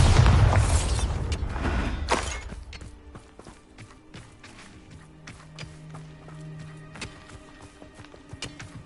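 Confringo and Bombarda explosion spells cast in Hogwarts Legacy, a loud booming burst with a heavy low rumble up front, followed by a string of lighter thuds and clattering impacts as it dies down.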